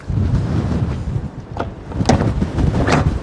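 Low rumbling gusts of strong wind with light rain buffet the microphone at a truck stop beside a Scania truck, with a few sharp rattles and knocks breaking through the roar.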